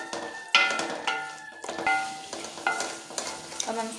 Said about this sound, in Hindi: अच्छी तरह से मिक्स करेंगे। हरी मिर्च ऐड करेंगे।